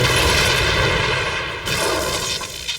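A loud cartoon bomb blast with dense booming rumble, sustained and close, in an Oggy and the Cockroaches animated scene.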